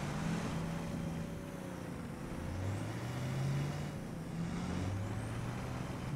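An enemy vehicle engine in War Thunder, a close, faint rumbling drone with pitch rising and falling as the engine revs, steady and continuous with no talk.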